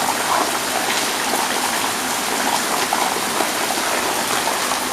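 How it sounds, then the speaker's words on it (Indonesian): Heavy rain pours steadily, a dense, constant hiss of drops drumming on surfaces with no letup, while people shelter behind a house during a fishing outing. "Oke teman-teman, hujannya makin lebat."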